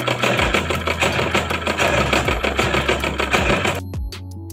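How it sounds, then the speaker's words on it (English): A sewing machine stitches a band onto a sweater in one steady, loud, rapid run of buzzing needle strokes that stops abruptly near the end, leaving a few faint clicks. "I'm going to use the pins as a guideline on where to sew."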